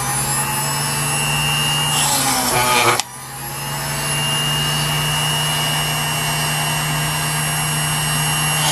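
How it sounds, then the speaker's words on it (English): A drill press boring entry holes for emery board patterns, its loud steady motor whine running throughout, with a rising grind near the start and a sharp break at about three seconds before the drone settles back in. "Okay, we're over here at the drill press now."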